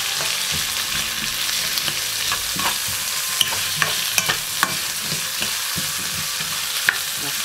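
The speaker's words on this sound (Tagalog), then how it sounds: "Half cook lang po ang sibuyas, ang onion." Half-cooked onion frying in a pan for a seafood dish with bell pepper and spiced sesame oil, a continuous close sizzle broken by the scrape and clack of a utensil stirring, no voices.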